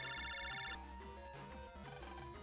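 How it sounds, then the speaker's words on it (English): Phone ringing in the Mega Man Battle Network 3 video game, a bright electronic ringtone trilling for under a second before giving way to game music. "Lan, you got a phone call."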